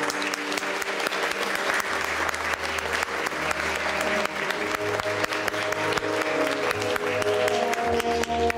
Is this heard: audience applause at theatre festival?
yes